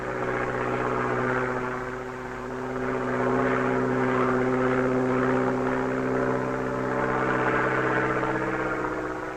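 A propeller airplane rolls around its longitudinal axis during an aerobatic display at Saint-Yan, giving a steady, moderately loud engine drone that swells and fades slowly as it turns, with no voices.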